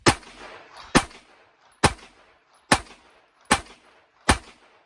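Six sharp 9mm gunshots from Allegiance OneStrike rounds fired into ballistic gel, evenly spaced about a second apart, loud and close with short ringing decay.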